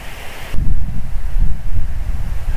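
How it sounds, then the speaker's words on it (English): Gusty wind outdoors at night buffets the microphone with a deep, rumbling roar that starts abruptly and keeps surging in uneven waves, loud and close with no voices. "It's a bit windy."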